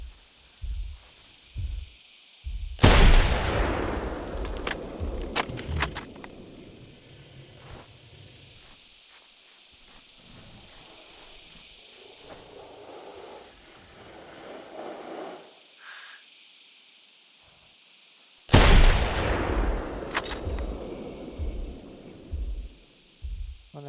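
Gunshots fire while hunting in theHunter: Primal, two loud, sharp blasts spaced well apart. Each one rings out into a long, decaying echo across open terrain, with no voices in between.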